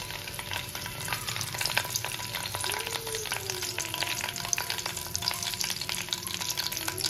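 Bay leaves and four cardamom pods sizzle in hot oil for a mutton tehari, a steady close crackling fry with faint stirring scrapes, continuous and without voices.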